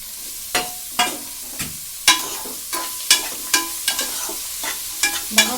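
Small pieces of bottle gourd fry in a pan while being stirred, with a sizzling bed broken by about a dozen distinct scraping and stirring strokes at an uneven rhythm, close and clear.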